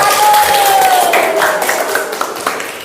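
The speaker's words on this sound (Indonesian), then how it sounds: "kita berikan tepuk tangan untuk kelompok" A classroom of students claps for a presenting group, a dense, steady patter of hands that gradually thins out, with a voice talking over it at the start.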